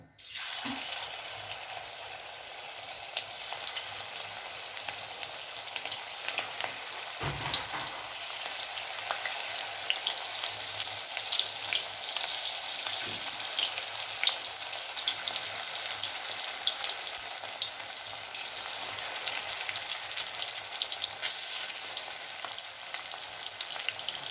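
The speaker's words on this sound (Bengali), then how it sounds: "আমি কড়াইতে সাদা তেল গরম হতে দিয়েছি। এবার আমি একে একে ফুলকপিগুলো ভেজে নেব।" Cauliflower pieces fry in hot white oil in a wok, a steady bubbling sizzle with occasional crackles and a brief clatter, without talk throughout.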